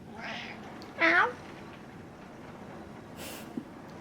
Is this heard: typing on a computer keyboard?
no